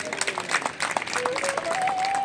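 Guests at a Lohana community mass wedding celebration in Ahmedabad break into applause, a brief patter of many hands clapping at moderate distance with a faint tonal hum running under it.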